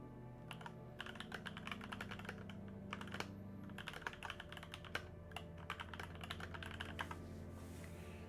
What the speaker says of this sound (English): my Clickety keyboard clack, is quite clickety loud